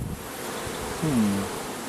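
Honey bees buzz around an open hive during handling, a soft steady hum of many insects with one louder droning buzz sweeping past up close midway.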